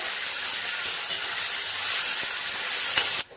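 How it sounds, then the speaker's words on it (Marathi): Potato pieces sauté in hot oil in a pan over high heat, giving a steady loud sizzling hiss with faint crackles that cuts off abruptly at the end. "बटाट्याचं पुडी गॅसच्या मोठी ठेवून बटाटे वरती परतून घ्यायचे"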